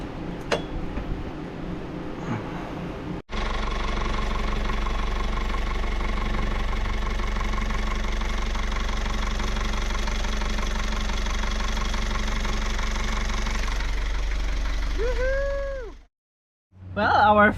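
A boat engine with a newly fitted pump runs steadily and loudly on a short test run, a constant droning hum with knocking vibration, then cuts out briefly near the end; voices murmur faintly at times.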